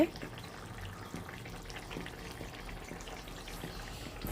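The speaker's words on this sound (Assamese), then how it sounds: "এতিয়া সুন্দৰকৈ উতলি আহিছে" Assamese-style rohu fish curry with roselle leaves boiling in a pot gives a steady, soft bubbling and watery wash throughout, fairly faint and even.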